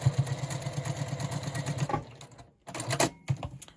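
A sewing machine stitching across a quilt block, a fast steady mechanical hum and rattle for about two seconds, then stopping, followed by a few short clicks and handling bursts.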